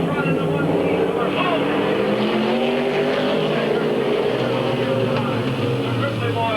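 Race cars at Midvale Speedway in 1997, a continuous engine roar rising and falling as the pack passes, with an announcer talking over it.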